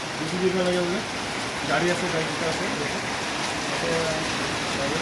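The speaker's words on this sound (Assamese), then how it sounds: "নন ষ্টপ বৰষুণ" Steady, dense hiss of heavy non-stop rain pouring continuously on the road to Cherrapunji, Meghalaya, with a voice murmuring faintly beneath it.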